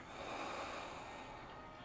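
A long, steady exhale through the nose during a yoga breathing exercise, soft, close and breathy, lasting the whole two seconds with no talking.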